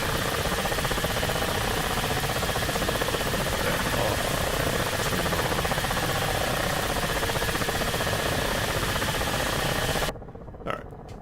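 Ka-50 Black Shark attack helicopter in the DCS flight simulator, its engine and rotor droning in a steady loud hum with a rhythmic thrumming beat, cutting off near the end to a quieter, thinner whine.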